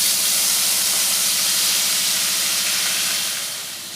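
Thin, long-cut potato sticks dropped into hot mustard oil, giving a loud, steady frying hiss and crackle that holds throughout and eases off slightly near the end.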